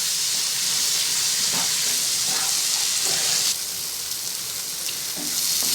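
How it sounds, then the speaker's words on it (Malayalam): Chopped tomatoes sautéing in oil with spices give a loud, continuous hissing sizzle close up, with occasional faint stirring knocks and a brief dip in the hiss partway through. "ഇതും നന്നായി മിക്സ് ചെയ്ത് എണ്ണ തെളിയുന്നത് വരെ നമുക്കിതൊന്ന് വഴറ്റി കൊടുക്കാം."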